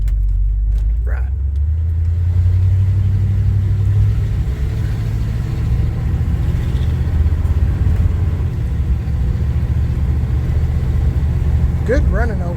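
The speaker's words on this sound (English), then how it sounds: "Good running old truck." A 1978 Chevy C10 pickup's engine runs while driving, giving a loud, close, continuous low rumble throughout with slight swells. A voice is faintly heard briefly near the end.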